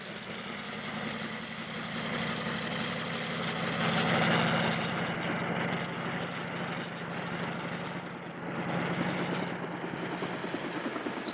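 A Navy helicopter flies over Antarctic ice, scouting a route for a ship fleet. Its steady, continuous rotor and engine drone stays fairly loud and close throughout, with no voices.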